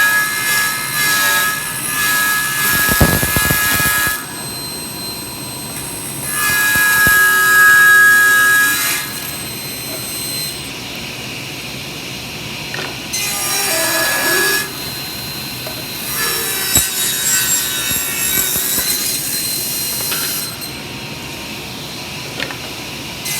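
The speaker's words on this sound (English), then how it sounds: "I'm going to rip this down to 5/8 of an inch" A table saw rips a wood board down to 5/8 inch. Several loud, high whining cutting passes alternate with quieter stretches of the saw spinning, close and continuous throughout.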